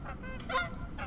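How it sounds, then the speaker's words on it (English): Geese honk overhead, a few loud nasal calls in quick succession over a faint background. "geese are flying south this time of year"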